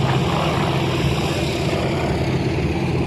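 Propeller aircraft fitted with a BMW radial engine flies over the Shellharbour airshow in Australia, its engine drone loud, steady and continuous throughout with no pauses.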